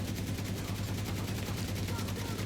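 The Pahkan light machine gun fires nonstop in The Division 2 video game. Dense, rapid automatic fire rattles loudly and evenly throughout without a break.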